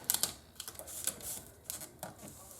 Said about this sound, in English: This is the harder part, taking the transfer tape off.